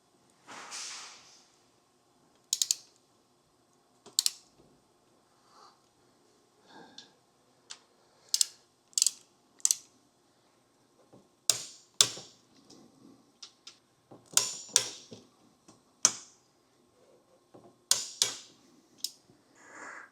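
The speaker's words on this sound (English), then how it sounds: "we got to torque these bolts" Hex tool torquing motorcycle handlebar bolts on a Honda CRF300 Rally fitted with ProTaper EVO Adventure bars, a close, sparse series of sharp metallic clicks and ticks in irregular bursts over quiet background.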